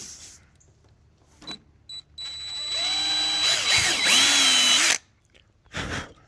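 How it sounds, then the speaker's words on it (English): Power drill boring a hole for a quick-release front bumper latch on an Infiniti G35, a loud steady whine of about one and a half seconds that rises in pitch, preceded by short trigger bursts and followed by a brief final burst. "Drill your first hole."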